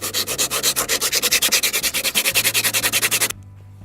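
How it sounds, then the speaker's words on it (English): Hand sanding of a rough spot on a homemade kayak, a loud rhythmic series of quick back-and-forth abrasive strokes, steady and close, stopping abruptly near the end. "I'm going to sand it down a tad."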